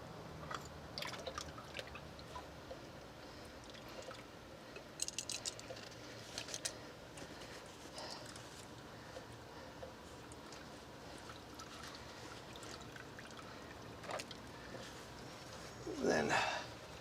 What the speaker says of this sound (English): once you get it loose, then it'll just drain into the oil pan